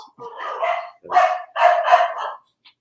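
Dogs barking in three drawn-out, loud bursts close by, one after another with short gaps between.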